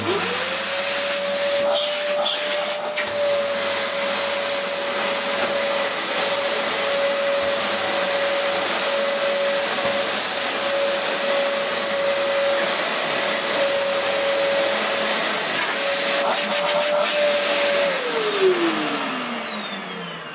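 A Dyson DC04 upright vacuum cleaner spins up and runs at a steady, loud high-pitched whine with a constant motor roar beneath. It then winds down at the end.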